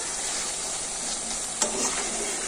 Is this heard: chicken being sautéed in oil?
yes